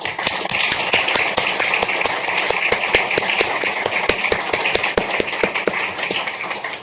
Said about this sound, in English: please join me in a huge round of applause for both our students as well as all of our faculty mentors